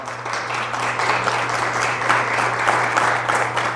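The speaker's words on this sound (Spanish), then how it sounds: "Denle un aplauso por Lío, que está allá, mírelo." A church congregation applauds Lío, steady dense clapping from many hands over a low constant hum, sustained throughout without speech.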